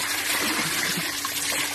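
Water from a hand pump pouring onto a phone, a loud continuous splashing gush close by, with no talking.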